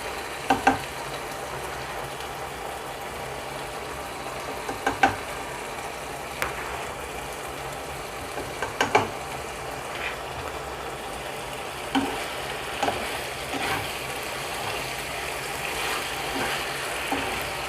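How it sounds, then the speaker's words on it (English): Diced onions, potatoes and carrots fry with minced meat for a Nigerian meat pie filling, giving a steady close sizzle with scattered scraping and clacking stir strokes throughout. "Then you add your diced, you have your finely diced onions, potatoes and carrots."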